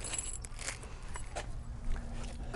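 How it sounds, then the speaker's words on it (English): Keys for a Golden Technologies Eagle mobility scooter jangle softly at close range, with a few small metallic clinks and rustles as they are fitted into the scooter. "I'm gonna take the keys of the scooter"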